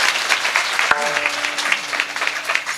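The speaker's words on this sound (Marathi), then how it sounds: "मी यांना धन्यवाद देतो टाळ्या वाजवायच्या" Applause from a kirtan audience, dense continuous clapping that carries through the whole moment, with a brief voice cutting in partway.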